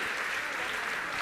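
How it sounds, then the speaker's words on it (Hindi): Audience at a Jain monk's religious discourse applauding volunteers, a dense, steady wash of many hands clapping throughout, fairly distant and even in level. "जोरदार ताली बजाइए।"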